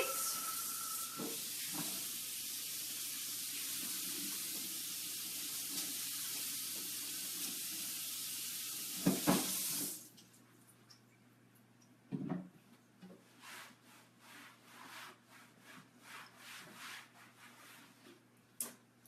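Tap water runs steadily onto a cutting board being washed in a kitchen sink, a loud continuous rush that stops abruptly, followed by softer scrubbing, rubbing and dripping sounds.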